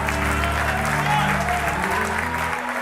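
A church congregation claps under sustained organ or keyboard chords and voices, a dense, steady patter of hands blended with music throughout.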